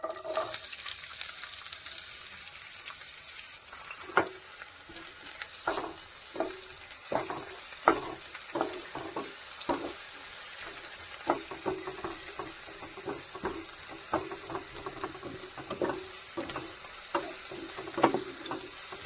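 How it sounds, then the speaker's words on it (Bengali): Steady oil sizzle and crackle throughout as chopped onions fry in hot oil in a kadai, with repeated clinks and scrapes of a spatula stirring them, no voices. "কড়ার তেলটা গরম হয়ে গেছে আমি এর ভিতর পেঁয়াজ কুচিগুলো দিয়ে দেবো"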